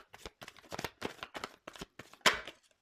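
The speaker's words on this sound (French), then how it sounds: "je fais sauter les cartes" Playing cards riffled and flipped in quick repeated bursts, each a crisp papery flutter, with one louder snap near the end; close and alone, no talking.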